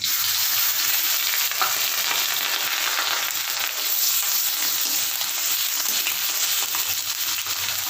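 Ginger paste fries with potatoes and pointed gourd in an oiled pan for a Bengali fish curry, a loud, continuous close sizzle with occasional scrapes of stirring.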